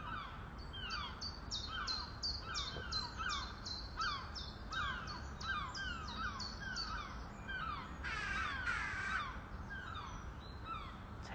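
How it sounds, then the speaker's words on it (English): Crows caw repeatedly outdoors in a rapid stream of harsh calls, some overlapping, over a steady low background rumble, with a louder burst of squawking near the end. "whether it be the sounds of the birds"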